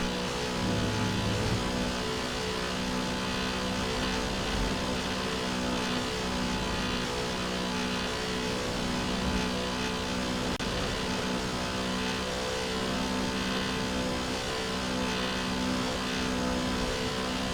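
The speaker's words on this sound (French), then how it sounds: "Désolé pour ce bruit de tondeuse, les gars." A lawnmower engine drones steadily and loudly throughout, a constant mid-pitched hum with a faint higher whine, unbroken and without speech.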